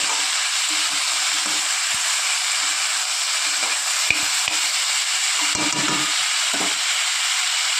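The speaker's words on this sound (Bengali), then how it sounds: "ভালো করে টমেটো, কাঁচা লঙ্কা দিয়ে আর একটু ভাজা ভাজা করব" Chopped tomato and slit green chilies fry in a pan with a steady, close sizzle, broken by a few soft stirring knocks; no one speaks.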